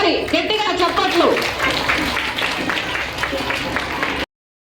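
An audience at an International Women's Day event held by a teachers' association claps together in a dense burst of applause. A voice sounds at first, then the clapping fades and cuts off abruptly.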